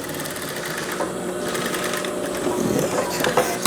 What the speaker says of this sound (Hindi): बिल्कुल इधर कंकर की सिलाई लगानी है आपने।